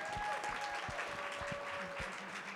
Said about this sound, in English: let's all give Ray Saunders a big round of applause